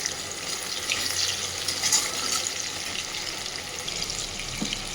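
Chopped onion and tomato frying in a pan with a steady, soft sizzle that holds evenly throughout, fairly quiet with no talking.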